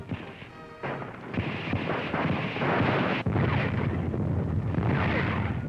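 Anti-aircraft fire from American gunners bringing down a German Stuka dive bomber in 1943 North Africa, a dense, continuous roar of blasts and crashing bursts with a sharp break midway, loud and close.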